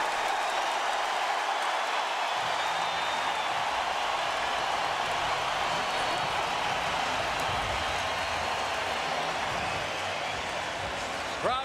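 A boxing arena crowd of nearly 40,000 roars in a steady, dense wall of cheering that holds loud and unbroken throughout, with a commentator's voice running over it.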